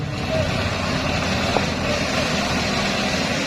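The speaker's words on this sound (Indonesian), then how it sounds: "menelaah daripada suara engine motor Arya Saputra" Drag bike motorcycle engine at a Lombok drag race event, a steady loud mechanical drone with low rumble filling the whole stretch, mixed with crowd noise and faint talk.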